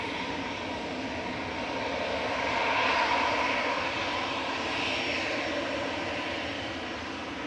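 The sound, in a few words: EasyJet Airbus A320 departing to Pisa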